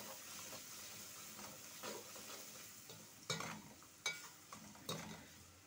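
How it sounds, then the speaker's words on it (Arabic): Spices are sautéed with onions in a pan, giving a quiet, steady sizzle with a few sharper stirring scrapes and clicks toward the end. "بنحط البهارات على البصل، هنديلهم تشويحة لما ريحتهم تطلع"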